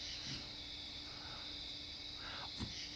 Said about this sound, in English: We hear crickets here, and we hear tree frogs.